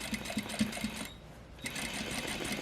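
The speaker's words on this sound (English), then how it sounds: "So this is just an extra stitch that's helping keep the pocket bag where I want it." A sewing machine runs an extra line of stitching on the pocket bag of a double welt pocket, its steady rapid whir near and clear, pausing briefly midway before starting again.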